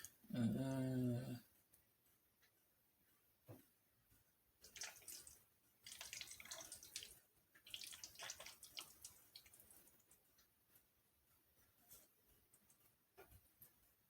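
A brief voice at the start, then intermittent bursts of running water and splashing while cooking spaghetti, stopping and starting, fairly faint and close.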